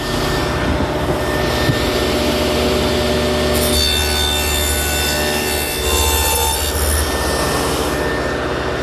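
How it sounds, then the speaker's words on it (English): A table saw fitted with a 1/4-inch dado head cuts a groove along the edge of plywood. It makes a loud, continuous whining roar whose pitch shifts as the board feeds through, with no talk over it. "I've set up the saw with a 1/4 inch dado head cutter"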